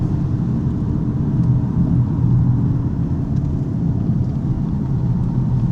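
Steady, loud road and engine roar from a modern car driven hard through a corner, with heavy load on the front left tire, trail braking and the front differential at work. The drone stays unbroken throughout, with no talking.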